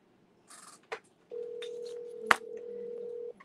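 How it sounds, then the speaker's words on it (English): A telephone tone comes through while a phone call is being placed: a steady, moderately loud tone held for about two seconds, broken by one sharp click, after a few brief beeps and rustles. "Let me call him real quick."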